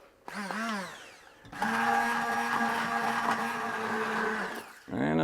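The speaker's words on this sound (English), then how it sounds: "we're gonna be using a stick blender, and we're gonna process the whole lot" A stick blender purees sautéed onion for a béchamel-based sauce, whirring in a brief pulse, pausing, then running in a long steady whine before cutting off and starting again.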